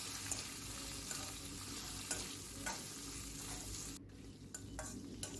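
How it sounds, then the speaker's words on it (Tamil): Pirandai (adamant creeper) and tamarind being sautéed in a pan, a steady close sizzle with scraping stir strokes throughout, no talk. "இந்த பச்சை கலர் போகிற வரைக்கும் நல்லா வதக்கிக்கோங்க"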